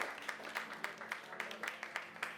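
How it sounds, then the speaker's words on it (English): A small theatre audience at a marionette show gives a round of applause, heard as faint, steady, rhythmic hand claps with a few individual claps standing out. "Give yourselves a big round of applause."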